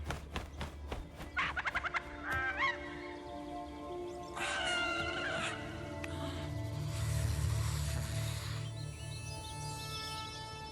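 A bird calls in The Lord of the Rings: Gollum video game: clucking, gobbling fowl-like calls in several bursts over a game soundscape, fairly faint overall.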